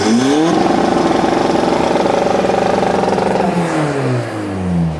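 Tuned Skoda Octavia 2 engine revving hard, rising and falling through a sustained high-rpm pull before dropping back toward idle, loud and close with no talk.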